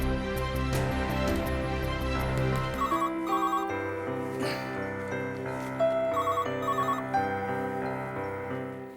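A telephone rings in a Hindi TV drama, its electronic ringtone chiming repeatedly over steady background music, moderately loud and close, with no talking.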